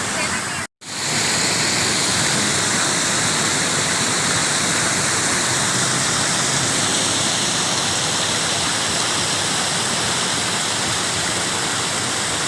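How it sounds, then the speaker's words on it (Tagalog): A mountain stream at a resort, running down over a small waterfall, rushes loudly and steadily close by. After a very short dropout near the start, the water roars unbroken with no voices. "Batis po yan."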